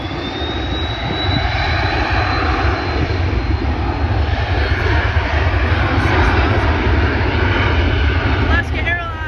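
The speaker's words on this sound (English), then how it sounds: "So yeah, this plane's about to take off." A jet airliner takes off at Vancouver International Airport, its engines roaring in a loud, steady rumble throughout while a voice talks nearby.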